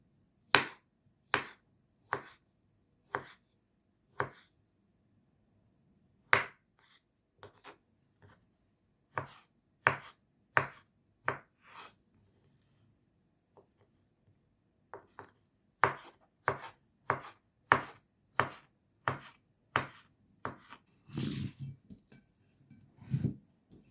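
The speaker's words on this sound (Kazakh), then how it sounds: "қызыл қылшаны тураймыз." Beetroot is chopped with a knife on a cutting board for a vinaigrette salad: crisp, close, rhythmic strikes in runs with brief pauses, quickening toward the end, and no speech.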